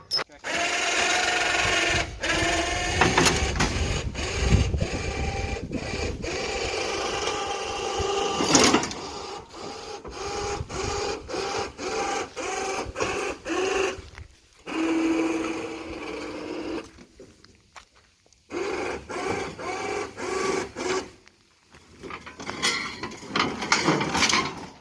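Kohler 14 HP engine on a Toro Proline walk-behind mower with a 44-inch deck runs roughly, a loud close rattling clatter with uneven surges and a few brief dropouts, while a voice speaks over it.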